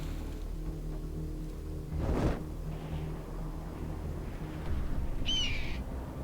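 A bird calls in the open world of the video game Far Cry 3, a short high screech near the end over low game ambience. A dull thump sounds earlier.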